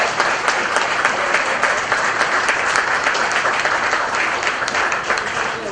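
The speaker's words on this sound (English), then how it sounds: "So big round of applause for those." Crowd applauding at a cricket tournament prize distribution ceremony, dense continuous clapping at strong level throughout.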